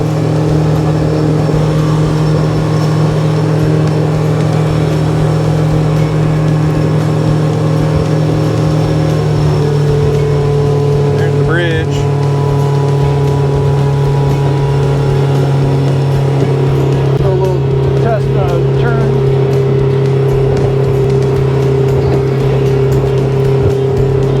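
Aluminum motorboat running across light wind chop, its engine a steady loud drone throughout with a slight pitch shift partway through, close and continuous with no talk.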